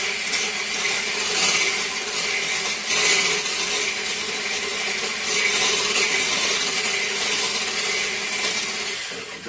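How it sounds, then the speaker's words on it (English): An electric whisk runs steadily, whisking egg yolk, mustard and vinegar in a bowl for homemade mayonnaise, a constant high motor whine with slight rattling, close and unbroken. "Now we start by whisking the egg yolk, the mustard and the vinegar. I have electric whisk because it's easy."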